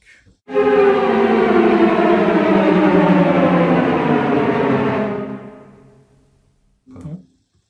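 A sustained two-voice string chord, virtuoso strings sample library, swells in and holds for a few seconds, then fades; a brief low sound follows.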